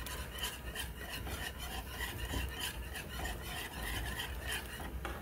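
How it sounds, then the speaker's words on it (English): A spoon scrapes and stirs biscuit gravy in a pan with rapid, continuous rhythmic rasping, close and fairly quiet, with no talking. "Get back to stirring."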